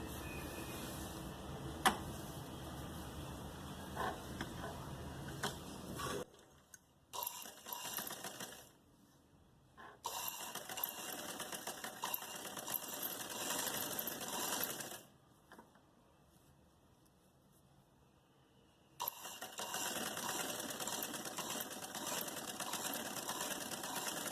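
A sewing machine stitches lace onto a sleeve in several close, steady bursts of rapid whirring, broken by short silent pauses between runs.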